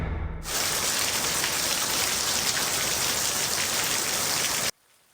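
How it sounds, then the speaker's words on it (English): Heavy rain pours steadily during a storm in Ventura and Los Angeles counties, a loud, dense, continuous hiss of drops on surfaces that stops abruptly near the end. "the rain coming down in Ventura and LA counties right now as well"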